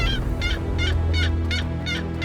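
A wild turkey calls during a hunt with decoys and a blind, sounding as a series of about six loud, rhythmic yelps or clucks over a steady low rumble, close and without talk.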